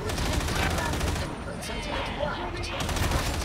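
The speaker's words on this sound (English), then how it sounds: "I'm shooting the guns on the side." Dense, continuous gunfire from side-mounted guns in Warhammer 40k Darktide, a loud rattling barrage that briefly thins mid-way before resuming, layered over game noise.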